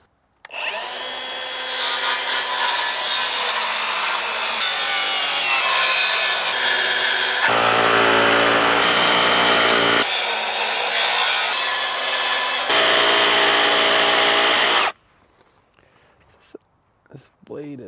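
Power saw cutting through wooden rafters for a micro cabin roof, loud and close, a continuous rasping whine with a few brief changes in pitch, then stopping abruptly, followed by faint handling clatter.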